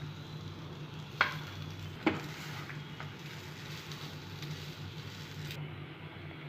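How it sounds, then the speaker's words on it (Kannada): Cooked rice gets mixed with curry leaf powder in a pan, giving a soft continuous stirring and scraping with faint sizzle and two sharp clacks of a spoon against the pan. "ಇದಕ್ಕೆ ರೈಸ್ ಮಿಕ್ಸ್ ಮಾಡ್ಕೊಳ್ತಾ ಇದ್ದೀನಿ"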